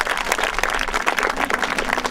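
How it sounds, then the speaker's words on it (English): An audience claps in a dense, steady burst of applause, close and continuous for a couple of seconds, with no voices standing out. "So give yourselves a big round of applause because you're the best."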